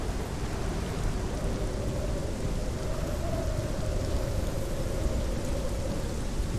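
Steady rain pours in the video game Hellblade: Senua's Sacrifice, a dense, continuous hiss with a low rumble beneath it, like a downpour mixed with distant thunder, heard alone with no talking.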